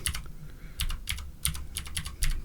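Close-up typing on a computer keyboard, quick clusters of key clicks in an uneven rhythm with short pauses between bursts.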